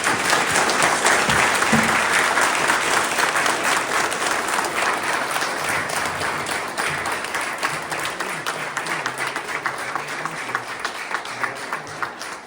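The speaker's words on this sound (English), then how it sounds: "can we give a big round of applause to the library and our candidates." A roomful of people at a League of Women Voters candidate forum held in a community library breaks into loud, sustained applause for the library and the candidates, steady clapping that slowly thins toward the end.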